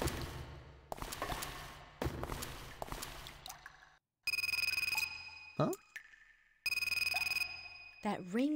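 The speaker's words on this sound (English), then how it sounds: "That ringtone. Somebody's calling the phone that I found randomly." Inside the video game Raw Danger, a phone ringtone sounds in two bright, electronic bursts of repeated tones, separated by pauses and followed by short chirps, with game sounds before it.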